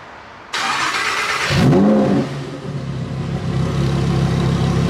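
A sports car's engine fires up with a push-button start and revs hard in sport mode, a loud broadband crank and roar settling into a steady, throaty idle rumble, close up, with no talking.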